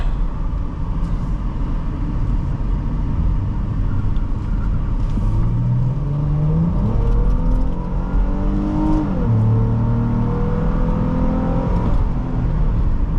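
A 2009 Nissan Quest 3.5 S minivan engine revs up and accelerates through several gear shifts, pitch climbing then dropping, a steady loud rumble throughout with no talking.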